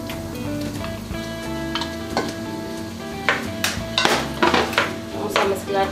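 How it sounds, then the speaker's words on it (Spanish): Chicken pieces going into a hot pan of lightly browned onion, heard as a steady sizzle with scraping and stirring, plus sharp clinks of utensils against the pan at intervals. "Vamos a subir el fuego a fuego medio y vamos a agregar el pollo."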